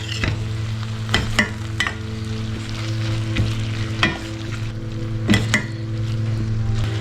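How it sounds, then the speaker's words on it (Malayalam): Red lentils sauté in a pan for a masoor dal curry, a steady sizzle broken by the scrape and clink of a spoon stirring at irregular intervals, close and alone. "പരിപ്പ് ചേർത്തിട്ട് നമുക്കിങ്ങനെ 2-3 മിനിറ്റ് ഒന്ന് ഇങ്ങനെ വഴറ്റിയെടുക്കാം."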